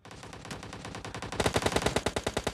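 Rapid automatic gunfire from a new weapon in the video game PUBG, a steady stream of close, evenly spaced shots that grows louder and punchier midway through the burst.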